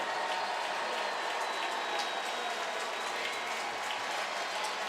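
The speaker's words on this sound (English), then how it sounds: "OU fans are cheering." A dense stadium roar from Oklahoma football fans cheering at the Sugar Bowl against Auburn, a steady loud wash of crowd noise with faint scattered claps and no break.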